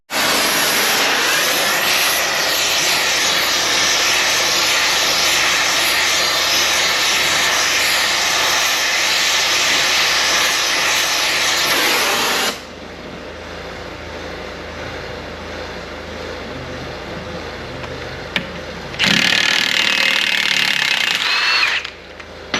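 On a VW Golf, heat is put on the drive shaft nuts with a loud, steady roaring torch for about twelve seconds. After a quieter pause comes a short, harsh burst as a gun undoes the nuts.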